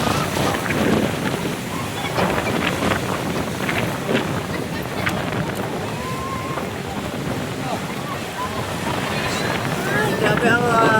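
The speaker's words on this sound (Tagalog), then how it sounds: "Grabe ang hangin." Strong seaside wind at San Nicolas, Batangas, gusting and buffeting the microphone over surf and distant boat noise, with people talking and calling out throughout.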